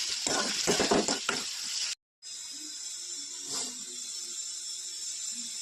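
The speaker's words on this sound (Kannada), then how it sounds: "ಬಾಣಲೆಗೆ 1 ಟೇಬಲ್ ಸ್ಪೂನ್ ಎಣ್ಣೆ ಹಾಕಿ ಈರುಳ್ಳಿ ಟೊಮೊಟೊನ ಫ್ರೈ ಮಾಡ್ಕೊತಿದ್ದೀನಿ" Onion and tomato fry in a tablespoon of oil in a pan, giving a bright steady sizzle with bursts of stirring crackle, then a short cut before a quieter continuous hiss.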